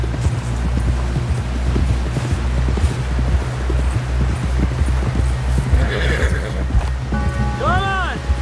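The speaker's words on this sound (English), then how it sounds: "Someone help John down off this horse." Horses in the video game Red Dead Redemption 2 gallop with steady, rapid clip-clop hoofbeats throughout, a horse whinnies near the end, and a game character talks over the ride.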